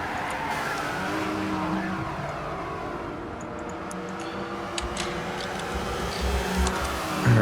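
Engine of a Mercedes SLS GT race car in a Daytona 24-hour endurance racing video game, a steady loud drone held throughout with faint mechanical ticks and a louder surge near the end.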